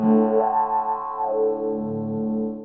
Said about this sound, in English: Now it sounds like a wah pedal.